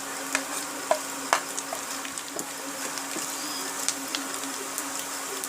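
Masala spices frying in a pan for fish curry give a steady, close sizzle, broken by occasional light clicks and scrapes from stirring.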